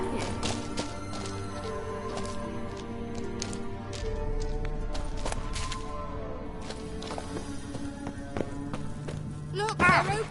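Kelpie, a horse in The Witcher 3 on PS4, gallops with steady clip-clopping hooves under game music and effects, with voices talking over it.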